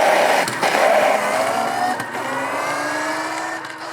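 An electric motorcycle, a Denzel Rush 4, accelerates hard from a standstill in first gear, its pitch rising steadily with a loud, sustained whine and roar, no voices present.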